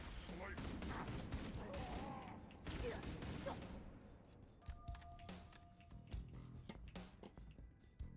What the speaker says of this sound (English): They're shooting at me. Return fire.